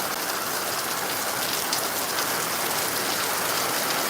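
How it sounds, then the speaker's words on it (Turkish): Hail and heavy rain fall hard outdoors, a dense, loud, unbroken hiss of drops drumming on surfaces without pause, with no one speaking. "Dolular kötü yağıyor."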